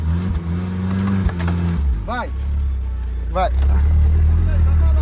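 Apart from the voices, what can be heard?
VW Saveiro Cross engine revving, reversing uphill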